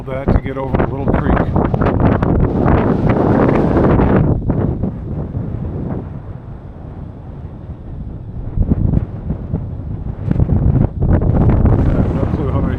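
Strong wind buffets the microphone high on the Kinzua Sky Walk, a tornado-damaged train trestle in Pennsylvania, roaring loud and gusty throughout with a brief lull in the middle and voices talking over it.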